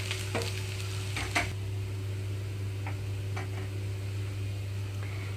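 Garlic and ginger-garlic paste fry in a pan for a carrot and egg dish, giving a steady low crackle with a few sharper ticks from stirring, close and continuous, with no one talking.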